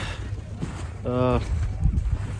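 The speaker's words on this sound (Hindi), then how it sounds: "धूप भी पड़ रही है लेकिन हवा भी बहुत चल रही है" Strong wind blows across the open high-altitude ground of Zoji La pass in Kashmir, a steady loud rush buffeting the microphone, with a brief tonal sound rising over it midway.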